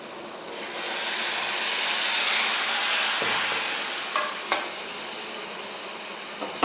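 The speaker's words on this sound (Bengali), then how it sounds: "এবার আমি সামান্য জল দিয়ে দেবো।" Onions frying in a pan give a loud, steady sizzle that swells into a hissing burst of steam as water is added, then settles, with a few faint clinks near the end.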